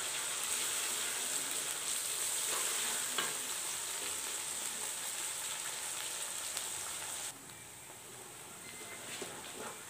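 Ginger, garlic and green chilli paste fries in a pan for an achari mixed vegetable dish, a loud continuous hissing sizzle with faint stirring, its bright top dropping slightly near the end.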